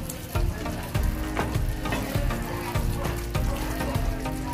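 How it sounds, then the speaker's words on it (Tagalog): Chicken curry sizzling and frying in a pot while being stirred, a steady loud crackle with repeated scraping strokes of the spoon every second or so. "Haluin lang natin ng konti."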